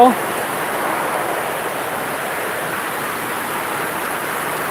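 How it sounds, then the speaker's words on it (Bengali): Heavy rain falls in Sylhet, Bangladesh, a steady, even roar of water close by, unbroken across the whole stretch after a brief bump at the start. "আজকে আল্লাহ রহমতে বৃষ্টি পড়ছে"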